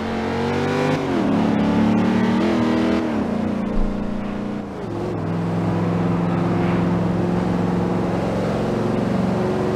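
A 2014 Corvette Stingray accelerates hard while racing on a highway, its engine droning loud and steady and rising in pitch through gear shifts, with a brief dip midway.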